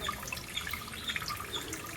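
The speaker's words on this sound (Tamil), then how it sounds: "இதுக்குள்ளே ஊற்று வேறு லெவலில் வருது பாருங்கள் தெரியுதா தண்ணி வழியுது" Spring water trickling and dripping inside an ancient cave, a faint steady splashing with scattered bright drips and no voices.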